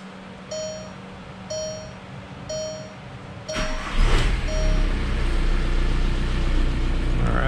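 Engine of a 2003 VW Beetle TDI being restarted, with repeated key-on warning chimes, then a cranking burst that catches into a steady close idle.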